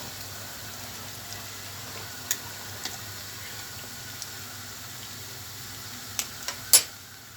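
Rice and tomato paste frying in a pan, heard as a faint, quiet sizzle with scattered soft ticks and a few sharper clinks of a spoon near the end.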